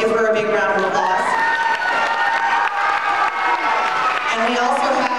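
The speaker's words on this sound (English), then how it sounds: "So let's give her a big round of applause." A school audience claps and cheers for the PTA president at a reflection awards event, a dense, loud wash of applause with shouting voices and children's calls mixed in throughout.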